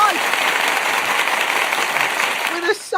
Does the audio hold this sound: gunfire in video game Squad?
no